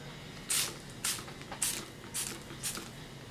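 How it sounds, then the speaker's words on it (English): Five short, hissing spritzes of vinegar from a spray bottle onto yarn for dyeing, evenly spaced about half a second apart, close by over a low background hum. "I have a spray bottle that has some vinegar in here"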